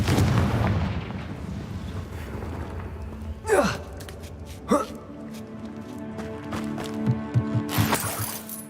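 Confringo fire spells explode in the Hogwarts Legacy video game, booming blasts with sweeping whooshes over rumbling game sound, along with breathy vocal gasps and sighs.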